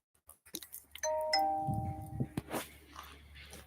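A two-tone ding-dong doorbell chime rings out clearly, its sustained tones fading over a couple of seconds amid household background noise during a live home stream.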